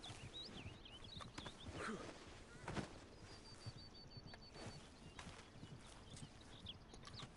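A horse in the video game Red Dead Online walks with quiet, rhythmic hoof clip-clops, the steps soft and continuous with faint background sounds.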